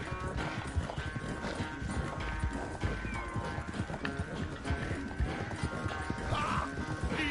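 Horse hooves clip-clopping in a PS5 video game, a steady rhythmic patter running throughout over a busy layer of game music and effects.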